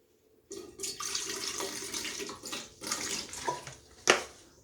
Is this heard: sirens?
no